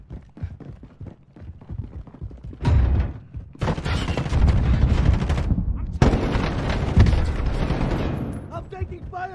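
Call of Duty quads gunfight: sustained bursts of automatic fire and booming shots crowd the mix, with voices shouting over the near, loud barrage.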